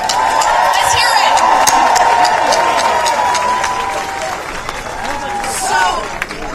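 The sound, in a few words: rally crowd applause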